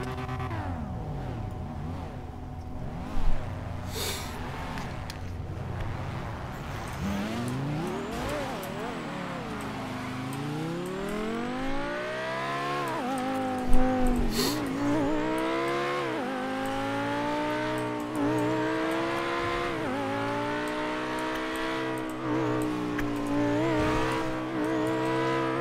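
Racing cars roar past in a sustained, sweeping engine drone, with repeated revving rises and falls and occasional sharp bangs, loud and continuous without talk.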